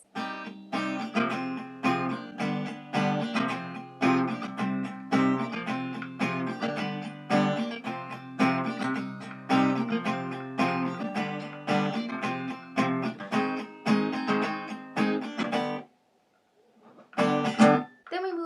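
A beginner's guitar plays Dolores' verse of a song: a steady run of strummed chords, fairly quiet and alone, with a brief pause near the end before strumming resumes.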